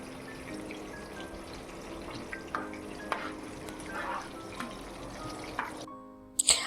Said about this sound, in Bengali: চলুন বাকিগুলোকেও আমরা সেমভাবে ফ্রাই করব।